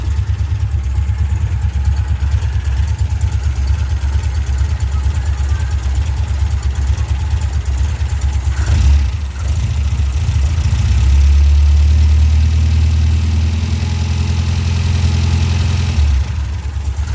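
A 1977 MGB GT rubber bumper sports car engine with a carburettor idles steadily and loudly up close, with a brief dip and then a slightly heavier, rumbling rev before settling again.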